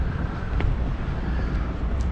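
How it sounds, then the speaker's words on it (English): Wind buffets an outdoor microphone near a Door County, Wisconsin harbor, a steady low rumble filling the whole stretch without a break, with no voices over it. "A little windy, a little breezy, so hopefully it won't be affecting the sound too much."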